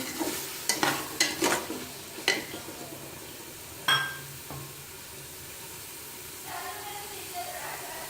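Masala and tomatoes are stirred into hot oil in a pot, giving a burst of sizzling and scraping strokes at first, then a single loud clatter and a quieter, steady hiss.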